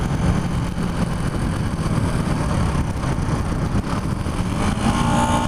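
A 1976 Honda CB125S motorcycle engine drones loudly and steadily while riding at about 45 mph on a road, a dense continuous motor hum with wind rush and slight pitch shifts.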